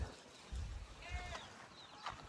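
Goats bleating on a farm, a couple of faint quavering bleats over quiet rustling and low thumps in the background.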